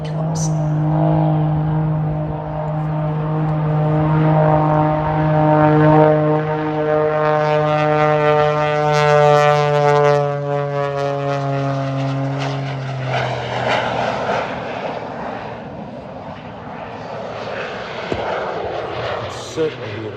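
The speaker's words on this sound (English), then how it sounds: "Certainly hear those jet engines." A Pitts S2S biplane fitted with jet engines performs an air show display, its loud jet roar and whine sweeping past nearby and gradually falling in pitch as it climbs away.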